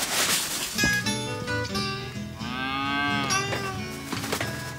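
A cow moos several times, loud and close, with long drawn-out lowing calls rising and falling over a farm setting, no speech.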